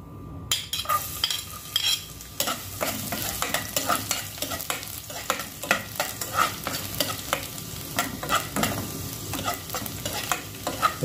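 Tofu fries in cooking oil for a tokwa and kangkong dish with oyster sauce, a steady sizzle broken by frequent rhythmic clacks and scrapes of a utensil against the pan, close and with no talking.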